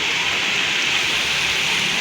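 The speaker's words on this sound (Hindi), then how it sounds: "अभी भी बारिश आ रही है।" Heavy torrential rain pours down in Lahore, a dense, continuous hiss of falling water, loud and steady with no breaks and no talking.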